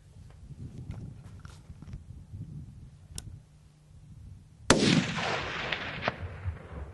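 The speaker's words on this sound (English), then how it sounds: "gets his Weaver 7 STW on a solid rest for the shot" A single sharp rifle shot from a Weaver 7mm STW fired from a solid rest at a buck outdoors, loud and close with a rolling echo fading afterward, preceded by quiet outdoor ambience.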